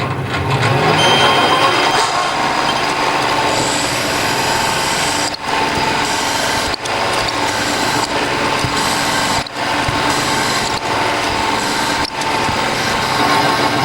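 A drill opens out a hole to 9.5mm in a steel blade frame for a compact power hacksaw, a steady close-up machine whir and grinding with a few short pauses.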